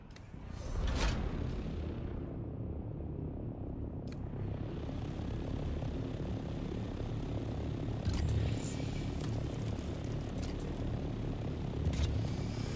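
An ornithopter flying in the desert game Dune: Awakening produces a continuous, steady aircraft-like engine drone with rushing air, with occasional brief whooshes and clicks layered over it.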